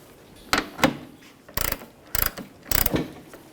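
A 24mm socket ratchet snugs up a radiator sensor on a 2003-2007 Honda Accord, giving three or four short, loud clicking bursts close by, spaced about half a second apart, with no talking.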